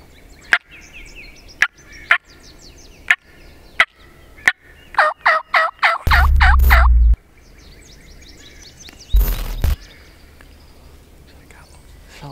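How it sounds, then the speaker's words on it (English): A wild turkey gobbles in loud rapid bursts amid sharp clucks and calls during an Indiana turkey hunt, with bursts of wind noise and some quiet voices. "heard a distant gobble over here"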